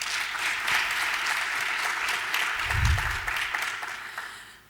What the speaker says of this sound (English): You have to clap your hand for these students.